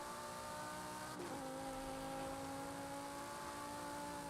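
In a racing video game, a car engine drones steadily with a sustained tonal whine and a brief scrape or tire squeal near the start, and no voices are heard.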